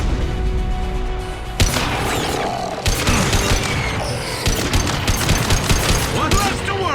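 Dense, loud gunfire from the video game Mass Effect 2 during a prison breakout, with rapid overlapping bursts and booming impacts that continue almost without pause, mixed with other combat effects.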